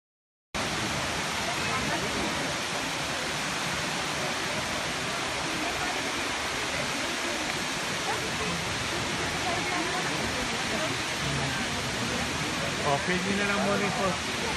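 A waterfall on the Oregon coast roars as a steady, dense rush of falling water, loud and unbroken throughout with no pauses.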